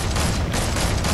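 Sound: gunshot in the video game Fortnite

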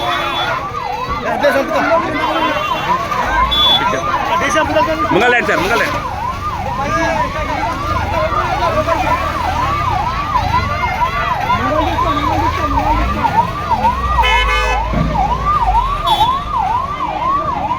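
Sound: ambulance siren

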